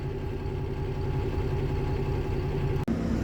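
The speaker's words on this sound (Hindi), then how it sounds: "ये बैक कर रहे हैं अभी।" A steady idling truck engine holds a low, continuous rumble close by, with one brief dropout near the end and no voices. The trucks are loaded goods carriers backing up.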